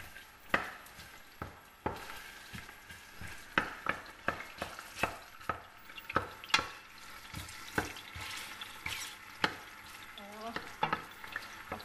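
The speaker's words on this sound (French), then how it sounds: "on va rissoler nos petits oignons comme ça" Chopped onions browning in a hot pan for an African-style rice dish, with a steady sizzle under repeated sharp stirring and scraping knocks close by, no talking.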